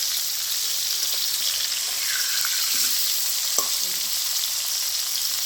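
Fish fry in hot oil in a pan, giving off a loud, continuous sizzle with a few soft clinks from a utensil and no talking.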